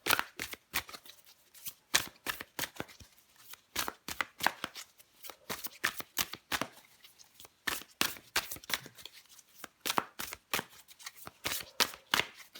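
A deck of tarot cards is shuffled repeatedly, close up, giving quick bursts of riffling and flicking that repeat in a fairly steady rhythm throughout.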